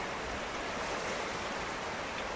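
A swollen creek in Ünye floods after heavy rain, its rushing water making a continuous dense roar with no pauses or voices.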